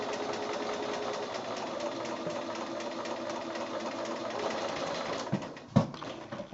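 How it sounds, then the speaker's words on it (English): A sewing machine hums in a steady, fast mechanical whir while free motion stitching around a quilt applique, running continuously close up before a brief clunk near the end. "I'm free motion stitching. So I'm just going just outside the applique."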